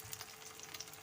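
Aloo tikki potato patties fry in oil, a soft, even sizzle with faint crackles and pops, quiet and close with no voices.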